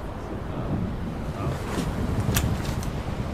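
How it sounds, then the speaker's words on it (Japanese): Ocean waves wash in a steady, soft rush of surf and wind in Monster Hunter World: Iceborne on PlayStation 4, faint and continuous with a brief brighter splash midway. "さっき突然波の音が変わったんですよね"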